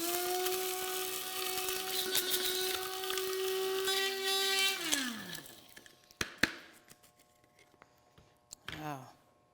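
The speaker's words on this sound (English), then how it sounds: "We're going to grind this up." An electric grinder whirs loudly with a high, buzzing whine as it grinds whole spices, then winds down and stops, followed by scattered knocks and rattles of the grinder.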